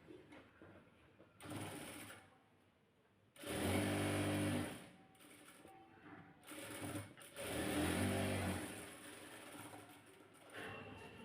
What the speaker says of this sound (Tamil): மிஷினில் மேலும் கீழும் நூல் போட்டு ஒரு வேஸ்ட் துணியில் செக் பண்ணி பார்க்கலாம்.